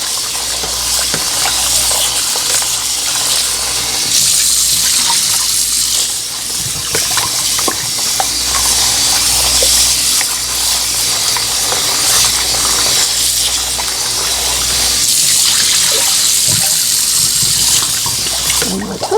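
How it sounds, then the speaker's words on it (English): Catfish pieces are rinsed under a running kitchen tap, giving a steady, loud gush and hiss of water that continues throughout, with a brief spoken line near the start. "Now I'm gonna rinse it off a couple more times"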